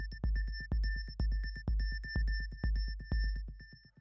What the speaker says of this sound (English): So the track begins with Morse code and a very echoey bass drum.